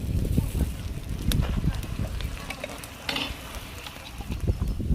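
Ground masala paste of coriander, coconut, garlic and ginger roasting in a pan for a whole katla fish curry, with busy close scraping and stirring over a strong constant sizzle.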